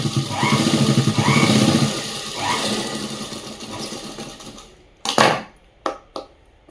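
A sewing machine stitching a blouse, a loud rapid mechanical whirring run that slows and fades, then a few separate clacking bursts close by.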